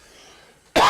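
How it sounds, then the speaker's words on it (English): A man gives a single loud, abrupt cough at the very end, after a quiet moment. "Man, I got a cough."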